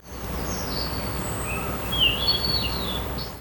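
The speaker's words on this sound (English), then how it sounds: "There's like birds chirping in the back." Birds chirp and whistle lightly in the background of AI-generated audio, thin high calls scattered over a steady soft ambient hiss.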